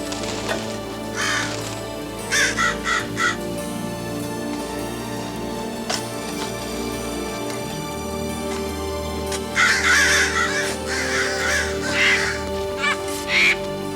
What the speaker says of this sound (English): There's birds out there. Big ones.